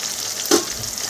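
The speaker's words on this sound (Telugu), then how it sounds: "ఈ మిశ్రమాన్ని కూడా బాగా వేయించుకోవాలి" Tomato puree mixture for a meal maker curry fries in a pan with a constant close sizzling hiss and a brief stirring scrape midway, no voices.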